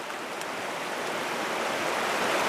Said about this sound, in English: This one's taken right in the fast water in here.